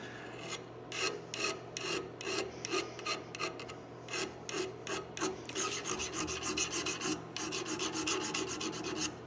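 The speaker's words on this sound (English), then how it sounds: "But we'll probably just file it on this one." A metal lock plate being filed by hand with a file, giving a steady run of rhythmic rasping strokes, close and fairly loud, with the strokes speeding into a quicker, denser rhythm toward the end.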